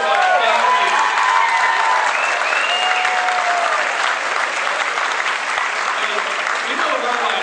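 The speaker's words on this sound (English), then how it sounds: "Can we give a round of applause," Sustained applause from an audience of mortgage-firm partners, friends and dates, a dense wash of clapping held steady and loud throughout, with faint voices calling out beneath it.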